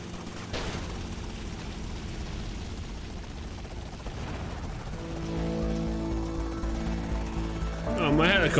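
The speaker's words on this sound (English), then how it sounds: "Oh, my helicopter." Helicopter in GTA Vice City Definitive Edition, a continuous rotor and engine drone that grows louder and more tonal over the last few seconds, with some talking near the end.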